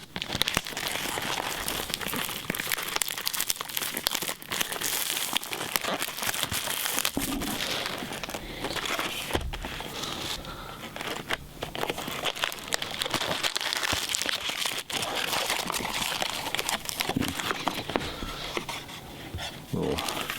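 Hands tear open and crinkle the foil wrapper of a Commander Legends Magic card pack. A long stretch of close, continuous crinkling, rustling and tearing runs the whole way through without any breaks.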